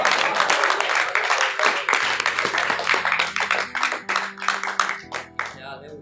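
An audience at a poetry reading applauds with dense, steady clapping that thins into scattered claps, while sustained harmonium-like musical tones play underneath.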